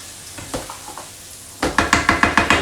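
Onions cook in a pan on the stove, a soft sizzle under rhythmic scraping strokes of a spoon stirring them, close up with no talking.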